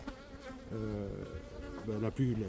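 Honeybees buzzing at a hive during a sunflower honey harvest: a close, dense buzz of many bees with wavering pitch as individuals pass near, continuous and alone.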